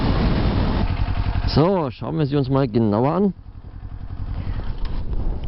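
A Kawasaki Z400 motorcycle engine, a brand-new bike, idles and gets a couple of short, moderate revs that rise and fall, running close and loud beneath someone speaking at the start.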